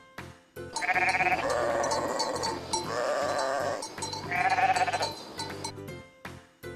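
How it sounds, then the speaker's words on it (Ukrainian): A ram bleats in loud, wavering calls, two long quavering cries with a short pause between, close by. "Баран."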